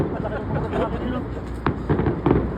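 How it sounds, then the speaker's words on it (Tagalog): Fireworks pop and crackle in scattered bursts against a busy crowd in Japan. People talk and shout excitedly over the bangs. "May fireworks pa lang ngayon."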